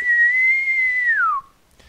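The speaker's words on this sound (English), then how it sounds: "Suddenly you hear a high-pitched whistling sound" A single clear, high-pitched whistle holds steady, then slides downward and cuts off.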